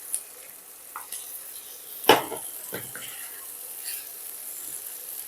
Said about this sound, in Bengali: এটাকে ভালো করে কষিয়ে নেব। এতে ভেজে রাখা ফুলকপিগুলোকেও দিয়ে দিলাম।